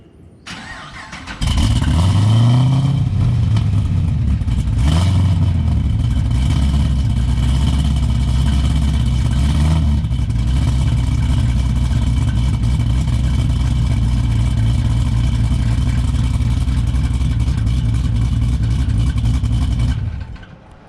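A 2009 Pontiac G8 GT V8 with a big cam cranks and catches, revs sharply a couple of times, then settles into a loud, steady rumbling idle close by.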